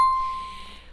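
A single bright notification bell ding rings out sharply, then its clear tone decays and fades over about a second, alone with no talk.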